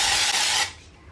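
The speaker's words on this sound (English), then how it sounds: "I'm just gonna very quickly spray this" Hair spray hisses from an aerosol can onto hair from about a foot away in one loud, close burst of roughly 0.6 seconds that then cuts off.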